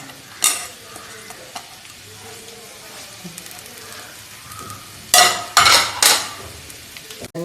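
Sliced onions dropped into hot oil, a faint background sizzle with occasional clinks, then several loud bursts of hissing and stirring near the end.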